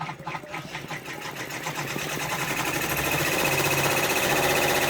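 An embroidery machine stitches freestanding lace for a fall floral pumpkin design, a close mechanical whirr with rapid rhythmic needle pulses that grows steadier and slightly louder as it runs.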